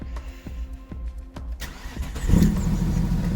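An Audi A6 C5 with a 2.5 V6 engine cranks with a quick rhythmic chatter, catches and settles into a steady, close idle.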